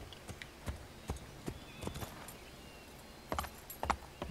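Horse hooves clip-clopping in the video game Assassin's Creed 3, a steady series of separate thuds at a moderate distance, with a few louder, quicker hoofbeats near the end.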